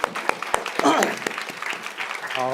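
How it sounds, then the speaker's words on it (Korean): A church congregation claps in scattered, uneven applause while voices talk and cheer over it, ending with a brief sung or drawn-out voice, during a Sunday worship service in Korea. "우리 고3 친구들이 힘내라고 우리 한번 응원의 박수"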